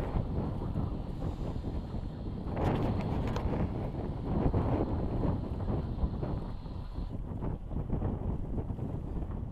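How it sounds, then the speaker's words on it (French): A gust of wind buffets a cruising sailboat, a steady loud rush of wind noise across the microphone that swells in the middle and then eases slightly. "On va dire que c'est une rafale."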